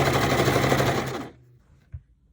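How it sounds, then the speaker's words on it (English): A sewing machine stitches a seam on linen shorts in a loud, steady rapid whir that stops abruptly partway through, followed by near silence and a single soft thump. "Now it's easy to sew just one seam here, and I'll be sewing on this side"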